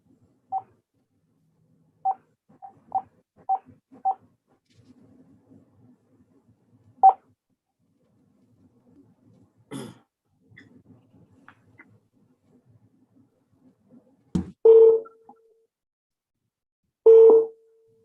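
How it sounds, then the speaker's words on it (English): A telephone call placed from a district court hearing: a quick series of short dialing beeps, a few scattered faint clicks and noises, then a couple of longer, steady busy-signal tones near the end, all fairly clear against quiet. "I'm going to try to call you on the telephone number that you provided to the court"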